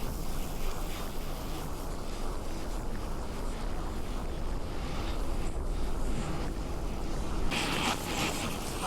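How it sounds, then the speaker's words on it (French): Strong headwind buffets the microphone in a continuous low rumble and roar while cycling up the Col de Vars, gusting louder near the end, with no voices. "Là, il y a un vent de face."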